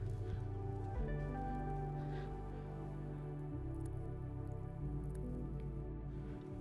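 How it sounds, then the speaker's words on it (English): Rain drips and water flows outdoors on a wet, snowy day, with close irregular drips over a steady low wash of running water and no speech. "it's just like wet and raining and we got some flowing water here"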